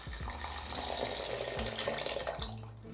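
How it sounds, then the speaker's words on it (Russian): Water poured over washed rice for rolls, a continuous gushing splash of running water filling a container, steady and moderately close, tapering off at the end. "Теперь нужно залить его водой на 800 грамм риса, 880 миллилитров воды."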